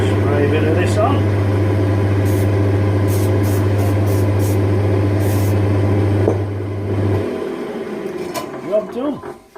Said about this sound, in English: all I do is just start the lathe going, spray a bit of this on